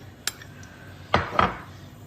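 Eggs are lightly mashed in a bowl for a breakfast egg sandwich, heard as three short close utensil knocks and scrapes against the dish.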